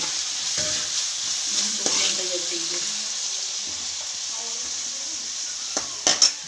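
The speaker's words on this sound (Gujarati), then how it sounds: "બીજા અહીંયા મંચુરિયનના બોલ ફ્રાય થઈ ગયા" Manchurian balls frying in hot oil, a steady close sizzle running throughout, with a few soft clinks and stirring knocks and a couple of sharper sounds near the end.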